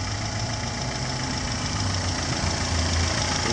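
A 1988 Honda Prelude with a rebuilt 2.0 fuel-injected engine idles steadily under an open hood, a continuous near hum with a slight knocking pulse and no talk.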